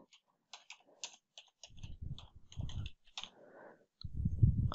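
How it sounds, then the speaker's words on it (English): Keys clatter on a computer keyboard at a CT operator console as a description is typed, giving quiet, irregular clicks with short pauses and some thumps. "I'm just going to select the output to save and type in a description."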